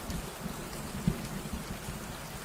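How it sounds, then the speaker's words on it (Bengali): Steady rain falling as a continuous soft wash with low rumbling beneath, outdoors in a rainy-season field, no voices. "হঠাৎ করেই তখন ঝিমঝিম করে বৃষ্টি শুরু হয়।"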